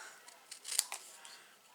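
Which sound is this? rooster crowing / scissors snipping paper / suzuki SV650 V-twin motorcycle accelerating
scissors snipping paper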